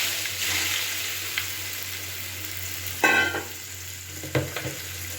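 Chopped amla tipped into hot oil seasoned with hing and kalo jeera, giving a steady sizzling frying hiss with a couple of sharper bursts as pieces land and get stirred.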